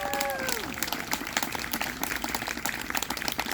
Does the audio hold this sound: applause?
yes